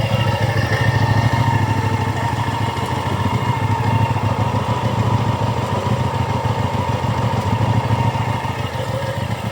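A 2015 Hyosung ST7 700 cc chopper motorcycle with toothed belt drive idles steadily nearby, its engine giving a continuous, even, loud mechanical rumble with light clatter and no voices throughout.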